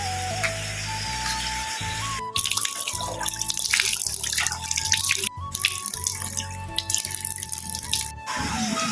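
Tap water runs into a sink during teeth brushing and face washing, a steady close splashing stream with dripping, starting and stopping a few times, with no talking.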